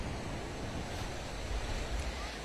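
High City Creek water in Memory Grove Park, Salt Lake City, spilling over a row of sandbags, a steady broadband rush and roar with low rumble, close and continuous, with no voices.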